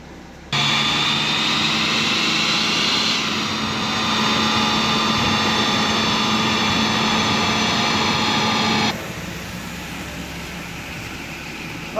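A BMW 435d diesel engine runs hard on a dyno during custom tuning, a loud steady roar with a high whine above it. The pitch shifts slightly partway through, and the noise drops sharply to a quieter idle near the end.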